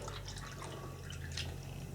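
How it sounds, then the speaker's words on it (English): Coffee is poured into a tray, giving a faint, soft trickle and patter of liquid, close but quiet against a low background hum. "what I will do is pour this coffee into a tray"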